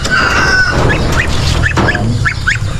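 A farm goose honks several times in short repeated calls close by, over a steady low rumble of outdoor background noise on a farm.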